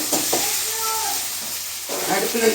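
Ginger and garlic sizzle lightly in hot oil for a crab masala curry, a soft, steady frying hiss heard close up with someone talking over it.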